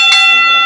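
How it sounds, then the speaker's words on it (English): A boxing match bell rings loudly, a sharp metallic strike followed by a sustained ringing tone that holds clearly and alone through the short clip, with a second strike starting at the very end. "And there's the bell."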